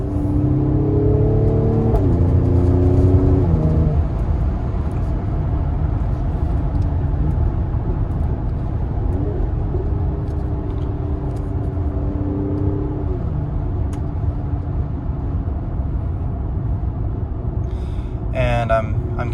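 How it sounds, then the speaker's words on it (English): A Mercedes-AMG GLC 43 with a Eurocharged tune rumbles in Sport Plus mode, a deep steady exhaust drone with rising rev sweeps heard from inside the car while a person talks throughout. "the exhaust is definitely louder in Sport Plus than it typically is"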